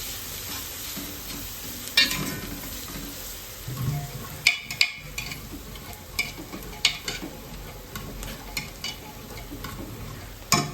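Onions with a pinch of salt sautéing in a pan, a steady low sizzle under repeated spatula scrapes and taps against the pan, close and moderately loud, no voices.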